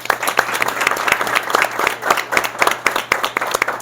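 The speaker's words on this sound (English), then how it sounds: "So let's give everybody a round of applause." Audience applause at a college commitment event, a room full of people clapping steadily and briskly, close and fairly loud for a few seconds.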